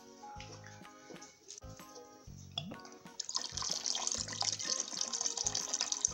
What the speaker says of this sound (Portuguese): Agora eu vou acrescentar a vodka.